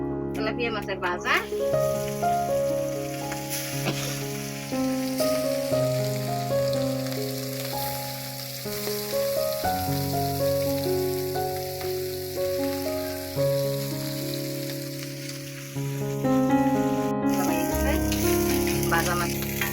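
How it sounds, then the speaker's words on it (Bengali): Tilapia fillets rubbed with turmeric, chilli and salt fry in hot oil, a steady sizzle running under continuous music that dominates throughout. "তেলাপিয়া মাছের ভাজা"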